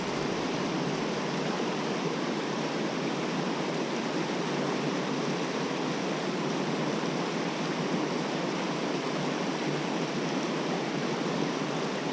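The cascade of the Vence river roars as a steady, broadband rush of falling water, loud and continuous without pause, with no voices over it.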